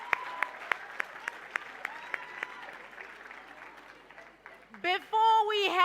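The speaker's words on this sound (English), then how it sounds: "Let's give a round of applause to all our winners." Applause for the winners at the Top 16 Youth-Owned Brands Awards 2022: a scattering of sharp, separate claps in a quiet room that thins out, then a voice starts talking near the end.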